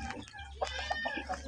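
An asil rooster clucks softly in short repeated notes, close by, over a low background hum.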